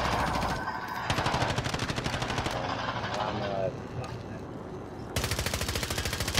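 Rapid automatic gunfire in a video game shooter, close and loud, with sustained bursts broken by a short lull before firing resumes, and players talking over it.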